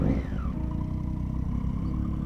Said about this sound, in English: Damn, that's a thick exhaust.